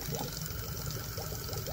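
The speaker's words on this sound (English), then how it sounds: "And the water is gonna go through." Water rushing steadily through a pipe in a FNAF Ruin fan-made puzzle, a continuous close trickling flow with a faint gurgle and soft bubbling near the end.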